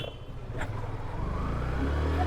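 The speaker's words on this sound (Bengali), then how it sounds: "আমার এই টান দিলাম ইঞ্জিনের সাউন্ড শুনছেন আপনারা" A second-hand motorcycle engine revs up steadily, a low rumbling drone that builds louder over a couple of seconds, close by with no talk.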